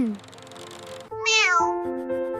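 A cat meows clearly, one short note and then a longer rising-and-falling meow, close and fairly loud, with no talking.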